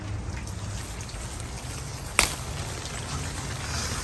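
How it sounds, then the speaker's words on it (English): Steady rain falls in a home garden among kumquat, orange and lemon trees, a close, even hiss of drops on foliage and surfaces with one sharp tap partway through and no talk. "It's a rainy new year."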